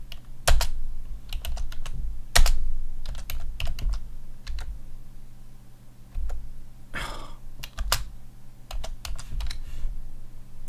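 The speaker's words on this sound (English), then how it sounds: "That's just me getting frustrated with the keyboard" Keys on a computer keyboard clatter in irregular bursts of taps and pauses, close and fairly loud, with a soft sigh-like breath partway through.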